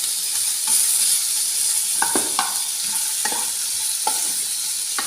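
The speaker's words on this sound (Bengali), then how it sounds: "ভেঙে দিলে তাড়াতাড়ি ভাজা হয়ে যাবে।" Rohu fish head sizzles steadily in hot oil in a pan while a spatula breaks it up, with a handful of distinct scraping clinks spread over the continuous frying hiss.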